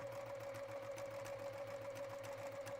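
A sewing machine runs steadily over a quilt seam, a constant close hum with a fast regular needle rhythm throughout, alone with no voices.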